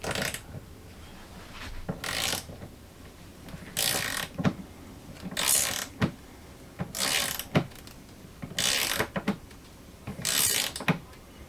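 Bolts on an HVAC unit are torqued down against a foam gasket, with a ratchet clicking in regular short bursts separated by brief pauses, close and moderately loud.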